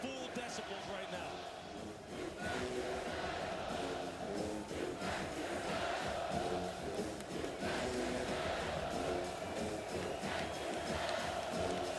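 A loud college football stadium crowd at Texas vs Florida roars continuously in the background while a commentator talks over it, the din steady and dense throughout.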